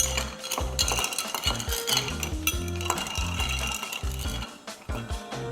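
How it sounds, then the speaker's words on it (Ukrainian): Cocktail ingredients stirred in a glass before ginger lemonade goes in, quick close rhythmic clinks and scrapes of spoon against glass and ice, with no talking. "Тому нам залишається розмішати всі ці інгредієнти і додати імбирний лимонад."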